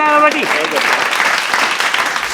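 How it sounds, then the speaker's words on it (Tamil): A studio audience at a Tamil comedy quiz show applauds a contestant, the clapping starting just as a voice trails off and then carrying on as a loud, dense, even wash of hands until the end. "அண்ணனுக்கு முன்னாடி கைத்தட்டுங்க"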